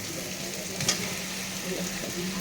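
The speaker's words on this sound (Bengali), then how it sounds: "মশলা থেকে তেল ছেড়ে দিয়েছে, এবার দিয়ে দিই আলু" Potatoes drop into hot spiced oil and fry with a steady, close sizzling hiss, with a brief clatter near the start.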